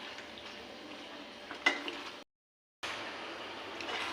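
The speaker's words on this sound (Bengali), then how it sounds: "এবার লবণের সাথে চিকেন এবং সমস্ত মশলা, টক দই সব একসঙ্গে মিশিয়ে আমি আরেকটুখানি কষিয়ে নেব।" Chicken with spices, salt and sour yogurt sizzles in a pan for chicken rezala, a soft continuous frying hiss with a brief utensil clink, cut by a short gap of silence before resuming.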